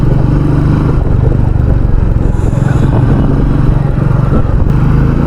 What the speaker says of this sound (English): this bike revs higher and gives you a very happy feeling when you want to rev the bike hard